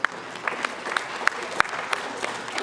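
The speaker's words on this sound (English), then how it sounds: "Give yourselves a round of applause for surviving it." Audience at a recovery and remembrance gathering in Raton, New Mexico giving a round of applause, a continuous patter of clapping with several sharp individual claps popping out, moderately loud.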